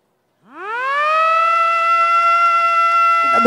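A siren sounded to open the Borneo Celebration 2019 event starts after a brief silence, winding up from a low growl to a loud, steady wail that holds for several seconds.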